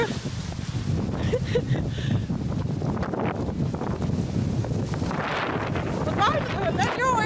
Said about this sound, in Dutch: Wat waait het?